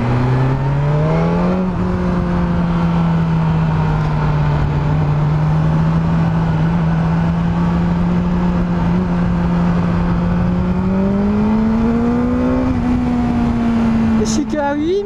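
A 2022 BMW S 1000 R motorcycle engine revving hard around 8000 rpm, a loud sustained whine that climbs in pitch and holds high, ending in a quick drop, heard from onboard with wind.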